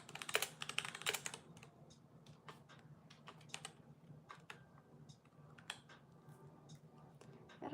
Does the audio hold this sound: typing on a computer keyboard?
yes